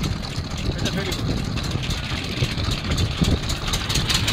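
A ferry boat engine chugs steadily at close range, a rough, continuous rumble with wind and water noise mixed in.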